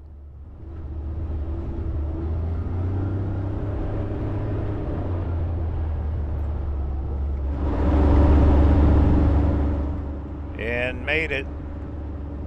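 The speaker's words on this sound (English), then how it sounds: "Talk about one busy road." Traffic rumbles steadily along a busy road, with one louder vehicle swelling as it passes close by midway, under someone talking throughout.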